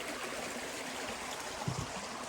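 Creek water flows beneath a Forest Service bridge in a grove of ancient cedars, a soft, steady rushing trickle that is faint and continuous, with no voices.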